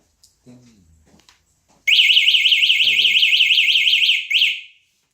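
A soft voice speaks briefly, then a loud, piercing warbling anti-theft alarm from a Citiroad electric scooter blares steadily for a few seconds before cutting off abruptly.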